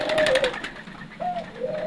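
Turtle doves cooing in a breeding aviary, two or three soft, low drawn-out coos separated by short pauses, fairly close and clear with little else around them.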